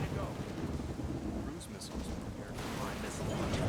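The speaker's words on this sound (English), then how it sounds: "So we've got a bit of lightning coming." Thunder from lightning in the real-time strategy game Mass Conflict: Ignition, a low, sustained rumble with rolling crackle, steady and dense, blended with other game sounds.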